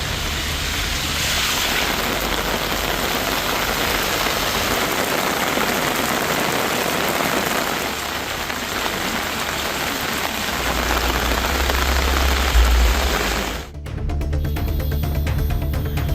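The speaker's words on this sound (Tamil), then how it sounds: "வட்டார பகுதிகளில் 1 மணி நேரத்திற்கு மேலாக கனமழை பெய்தது." Heavy rain pours steadily on surfaces in and around Kodaikanal, a dense continuous hiss that holds level throughout, broken by a short abrupt cut near the end.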